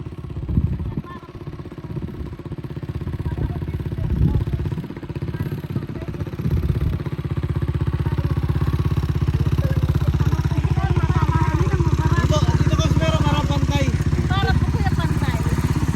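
A motorcycle ridden on a mountain trail across hot lahar terrain, its engine droning steadily and clattering over rough ground, close and continuous, with people talking over it at the start.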